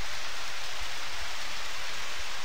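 Steady rain from the farming video game Harvest Moon, a constant even hiss of falling drops with no other sounds, no voices.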